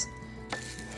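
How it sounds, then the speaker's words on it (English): A spoon clinks and scrapes inside a pot of homemade beef stew as it is stirred, a soft close metallic tap over quiet background hiss, brief and low in level. "We're going to give it a stir."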